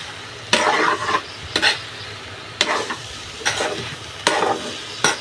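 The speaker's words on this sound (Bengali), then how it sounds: "তো এখন আমি সবজিটার সঙ্গে মিশিয়ে দিব।" Cooked noodles being tossed into frying soya chunks, cauliflower, carrot and potato, with rhythmic scraping stirs and bursts of sizzle recurring every second or so, close and fairly loud.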